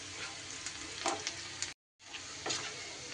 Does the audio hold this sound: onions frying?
yes